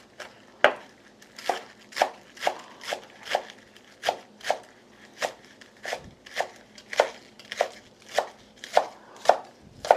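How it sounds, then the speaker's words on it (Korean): A kitchen knife chops green onions (scallions) on a cutting board in steady, rhythmic strokes, about two per second. The chops are close and distinct, with no talking over them. "쪽파를 쫑쫑 썰어 놓으시면 돼요."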